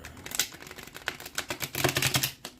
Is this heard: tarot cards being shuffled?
yes